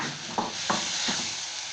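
Pork stir-fried in a pan for a Thai egg-pan breakfast dish, giving a steady broadband sizzle with a few soft scraping stirs of the spatula, close and even throughout.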